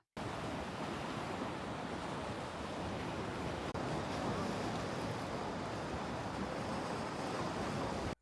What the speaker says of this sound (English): Edgewood Park / Edgewood Beach right here